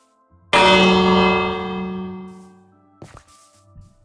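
A Minecraft bell struck once, a loud bright metallic ring with a long shimmering decay over about two seconds, followed by a brief soft clatter.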